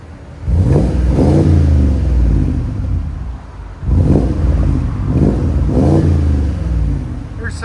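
A 2017 Porsche Cayenne Turbo with a 4.8L V8 and a Fabspeed axle-back exhaust revs hard in two loud, close bursts of deep, rumbling throttle blips, with a short settle at idle between them.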